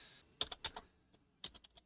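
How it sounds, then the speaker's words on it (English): Keys clack on a computer keyboard while the F1 key is pressed, two quick clusters of close, crisp clicks separated by a short pause, quiet and with no voice. "You look on your keyboard, function 1, F1 key, click that."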